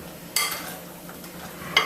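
Raw ratatouille vegetables being stirred in a bowl, two short sharp clinks of a utensil against the dish with soft rustling in between, close and moderately quiet, no talking.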